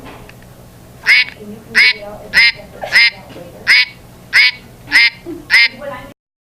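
A duck quacks nine times in a steady, evenly spaced rhythm, loud and close, over a faint low background hum.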